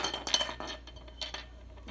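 Porcelain Easter eggs from a matching dishware collection clinking together as decorations are handled, with a cluster of bright, close clinks followed by a few lighter taps.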